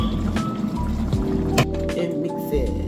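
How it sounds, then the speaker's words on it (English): Water being added to the ingredients of a Nigerian dry okra soup with beef and pomo, a brief, close liquid splash and gurgle heard alongside a speaking voice. "Add a little water to this"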